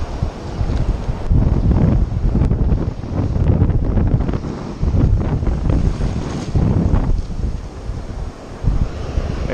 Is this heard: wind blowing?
yes